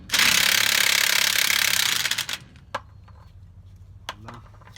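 A loud burst of impact wrench hammering on a castle nut on the front brakes of a 1947-59 Chevrolet truck, running steadily for about two seconds, then stopping, followed by a few faint clanks and metallic taps.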